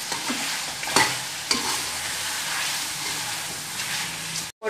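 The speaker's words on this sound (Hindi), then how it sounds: "तो अब साथ ही टमाटर डाल देते हैं, जो मैंने टमाटरों का पेस्ट बनाया है।" Tomato paste sizzles loudly in a hot frying pan during chicken matar shorba cooking, a steady bright hiss with a few spoon scrapes as it is stirred, close up, ending abruptly.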